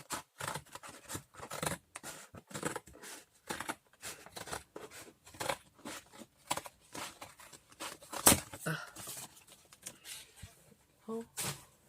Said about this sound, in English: So I'm going to cut this here.